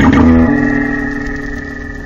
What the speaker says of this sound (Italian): Qualche tempo fa, nella Fossa delle Marianne, fu osservato un suono che chiamarono Biotuang.